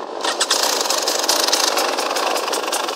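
A KTM EXC 300 motorcycle engine runs at a steady idle, with a continuous rattly mid-range drone that stays fairly loud and close throughout.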